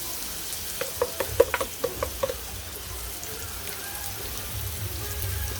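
Onion hits a hot pan with a quick run of sharp crackles and pops over roughly a second and a half, settling into a soft, steady sizzle with no talk.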